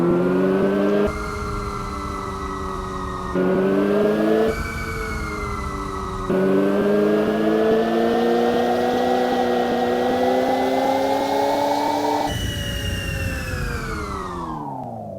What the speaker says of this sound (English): I put in sounds from like a jet engine, so it has like a cool like blow off valve turbo kind of feeling to it